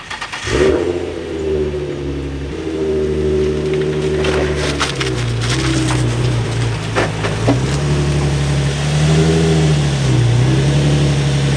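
Drift car engine on $600 Raceland coilovers driving and revving nearby, a loud continuous drone that rises and falls in pitch as the throttle is worked, with clunks and rattles over it.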